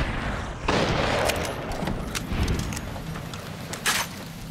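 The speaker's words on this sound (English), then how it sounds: "Did anybody else hear gunshots" Gunfire in the video game Fallout New Vegas, several sharp shots cracking at irregular intervals over a rumbling background, with no talking.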